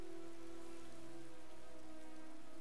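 Steady rain falls at night in a fantasy video game, a soft, even patter on surfaces with a faint low hum beneath, constant and quiet with no voices.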